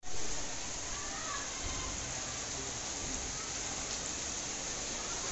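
Steady rain hisses down on a surface, a dense, even wash of drops close by with no break.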